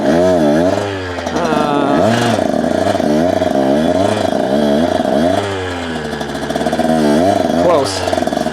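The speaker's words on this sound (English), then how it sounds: "I'm just keeping some RPMs in the bike and just not letting it just sit there and idle" A two-stroke dirt bike engine revs repeatedly in rising and falling pulls while being warmed up, loud and close, with a clutch being dragged and a voice talking faintly under the engine noise.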